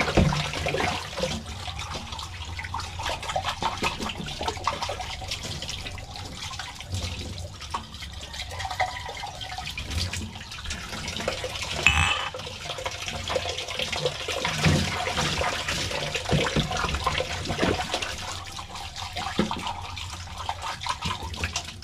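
Running water for rinsing, a continuous splashing gush from a tap with irregular drips and spatter, steady and close throughout.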